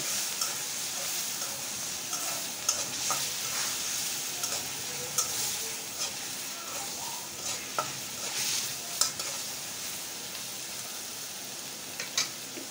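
Salt and turmeric are stirred into a soybean and potato curry with ginger-garlic paste in a hot pan, giving a soft continuous sizzle broken by scattered scraping clicks of the spoon, close and steady, with no talking.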